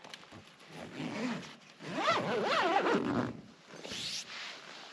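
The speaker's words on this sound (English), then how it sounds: "You've got these big zips here." The large zips on a Hilleberg Soulo Black Label tent are drawn in several close, rasping pulls, with short pauses between the strokes.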